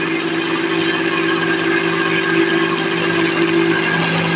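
An electric grinder whirring steadily as it grinds coconut into a fine powder, a loud, constant motor drone with a strong hum and no pauses or talking.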